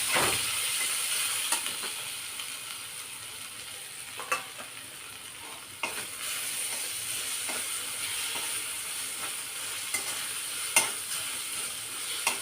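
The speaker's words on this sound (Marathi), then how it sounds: "आता एक पाव चमचा हिंग आपण टाकलेला आहे आणि याचबरोबर आपण आता कैरीचा हा केस टाकून द्यायचा" Asafoetida and raw mango pieces sizzle steadily in hot oil tempering, a continuous frying hiss with occasional stirring clicks and scrapes, close and moderately loud.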